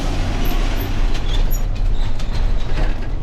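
A train passes a railway crossing close by while a bus waits at the gates, a loud, steady rumble with clanking mechanical noise.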